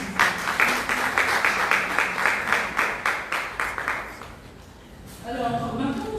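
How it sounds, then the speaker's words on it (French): An audience at a ceremony in the Democratic Republic of Congo claps in a steady, fairly loud burst that fades away after about four seconds, followed by a brief stretch of voices. "Je vous demande donc d'applaudir pour vous malgré le Covid."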